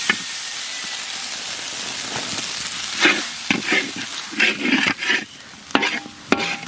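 Ginger, green chili and chhatu are stirred in a hot pan, with a soft sizzle under a series of irregular scraping strokes that grow louder and more frequent toward the end.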